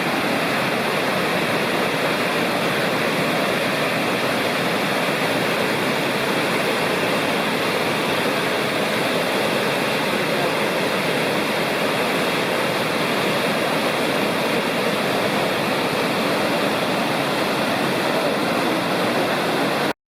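Greg Prong Falls in the Lost Cove wilderness roars as a steady, loud broadband rush of falling water, unbroken and constant throughout with no voices.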